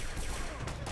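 Rapid bursts of gunfire in the Fallout Shelter game, dense and continuous, crackling loudly throughout the short moment with no pauses.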